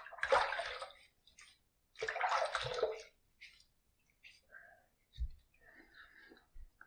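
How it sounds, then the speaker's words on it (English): Water splashes and pours in short bursts while rinsing during a head shave with a Merkur Futur safety razor, two strong gushes then softer drips and trickles nearby, with a brief low voice in between. "let's kind of rinse, add a little water"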